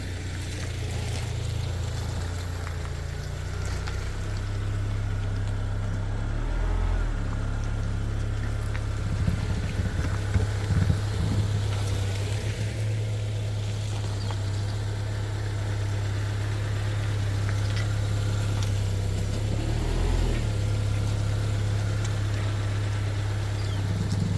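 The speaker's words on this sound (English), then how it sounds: "I'm gonna try moving the car in and out of the driveway" A Subaru on Mickey Thompson Baja Boss all-terrain tires creeping in and out of a driveway, its engine idling as a steady low drone with faint rumbles and creaks from the wheels, no talk.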